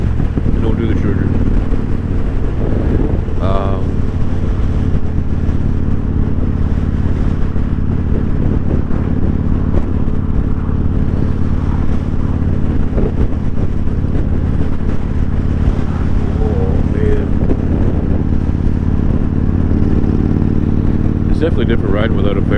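A Yamaha motorcycle ridden without a fairing drones with a steady engine note under heavy wind rush, loud and continuous throughout, while someone talks over it.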